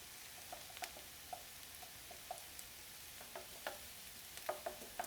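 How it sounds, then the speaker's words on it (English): Garlic and onions frying in a pan, a quiet sizzle broken by light, irregular clicks and taps of a utensil stirring them, with no talk. "you incorporate the garlic and the onions"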